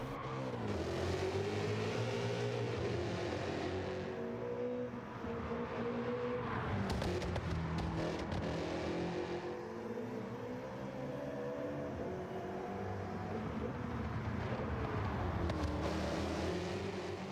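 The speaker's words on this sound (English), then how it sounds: "In my opinion, it's one of the best sounding engines within the game." Engine-swapped drift car in Gran Turismo 7 racing game, a sustained loud engine roar with rising and falling revs as it slides, steady throughout with no talk.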